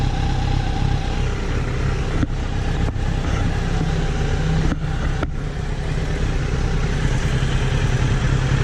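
Motorcycles idle steadily during a group ride in San Martín de Trevejo, a continuous low engine rumble with a few brief dropouts and no talk.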